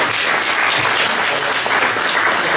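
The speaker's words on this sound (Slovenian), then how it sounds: "si zasluži en velik aplavz najprej" Steady, dense applause from a crowd at a wood sculpture exhibition in Trzin, Slovenia, continuous throughout with no voices standing out.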